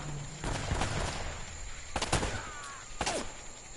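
Gunfire in the Uncharted video game, with a couple of sharp, loud shots standing out over a constant background of game noise and ambience.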